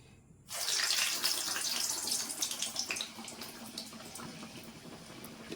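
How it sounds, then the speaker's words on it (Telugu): Water runs and splashes steadily as hands are wet while shaping urad dal vada on a betel leaf, starting abruptly and continuing alone before easing off. "మళ్ళీ ఇలాగా వాటర్లో తడుపుకుంటూ"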